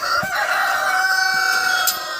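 A Cochin rooster crows loudly and close by in a farmyard, one drawn-out call that fills the whole moment.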